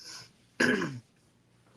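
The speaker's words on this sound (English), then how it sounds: "pardon my coughing" A single sharp throaty cough bursts out after a faint breath, then quiet with a hint of another starting at the end.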